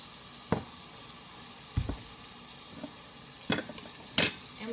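Salted vegetables stirred in a pot over medium heat for arroz con pollo, a soft low sizzle with a few scattered spoon knocks and scrapes, fairly quiet and close.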